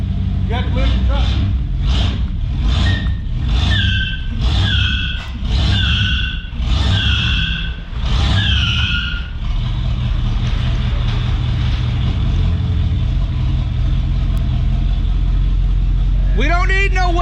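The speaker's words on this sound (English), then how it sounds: "I'll try to do another burnout." A 1991 Pontiac Firebird engine revved repeatedly for a burnout, a series of about eight loud rhythmic rising roars close by, then a steady rumbling idle.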